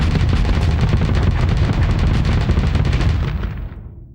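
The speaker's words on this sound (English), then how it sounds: "I love the chain gun, it always feels like it does more damage than it should." Rapid, sustained automatic fire from a chain gun in the space combat game Starsector, a dense loud barrage with a low booming body that keeps going for about four seconds before tapering off at the end, with no speech.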